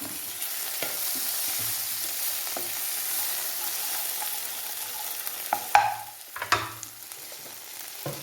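Chilli powder, turmeric and spice powders stirred into oil with tomato pieces for a pork curry, a steady high sizzle throughout with occasional scrapes and clacks of a spoon against the pan near the end.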